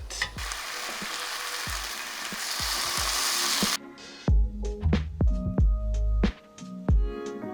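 A full English breakfast fry-up sizzles steadily in a pan, first as a dense continuous hiss, then as quieter crackling with scattered clinks and scrapes of a utensil against the pan.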